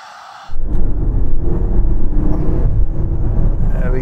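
A 2022 Range Rover accelerating hard from a standstill up a slight incline, with loud engine roar and road rumble building suddenly and holding steady, close inside the cabin.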